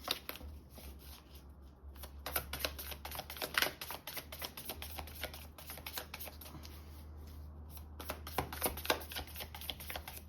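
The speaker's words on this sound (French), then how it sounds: "On bat un peu les cartes pour les scorpions pour ce mois de février." Tarot cards are shuffled by hand in close, rapid bursts of papery riffling and flicking, with short pauses between runs and a low background hum, with no talking.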